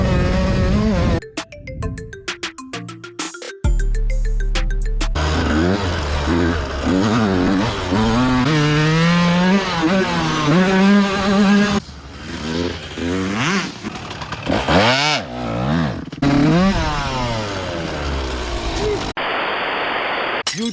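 A Yamaha YZ125 two-stroke dirt bike engine revs loud and close, its pitch rising and falling in repeated throttle blips with brief drops, a continuous buzzing roar throughout.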